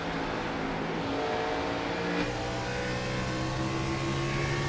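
Race car engines at Richmond bottoming out in fourth gear, a loud steady high-pitched drone that steps up in pitch partway through and holds, with no talk.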